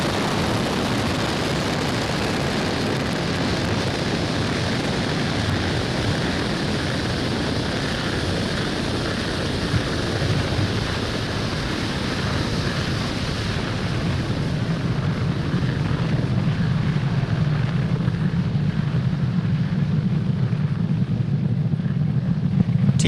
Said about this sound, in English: Falcon 9 has successfully lifted off from Pad 40 at Cape Canaveral Space Force Station, carrying the O3b mPower payload